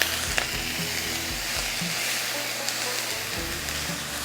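Ground beef burger patties fry in a pan with a loud, close, continuous sizzle and crackle, along with a few scraping stirs and no voices.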